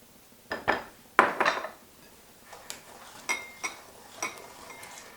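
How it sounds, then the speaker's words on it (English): A spoon clinks and scrapes in a bowl while muffin batter for cinnamon, apple and pecan muffins is mixed with oil and sugar. Several bright knocks land close up in uneven bursts, then lighter taps follow. "Mix that in with your oil and sugar. Mix that really well together."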